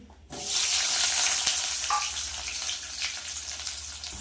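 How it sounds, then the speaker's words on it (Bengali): Onion and garlic hit hot oil with black cumin, starting a sudden loud hiss that carries on as steady sizzling close by, with a brief clink partway through. "এই যে পেঁয়াজটা লাল লাল করে একটু ভেজে নিয়েছি"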